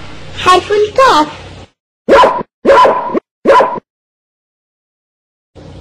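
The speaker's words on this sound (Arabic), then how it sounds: "كلب" A dog barks three times in short, sharp, evenly spaced bursts, close by, set between stretches of speech.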